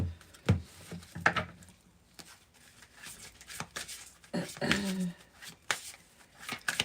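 A deck of tarot cards is shuffled up close in quick riffling bursts and soft slaps, with a person speaking at times between them.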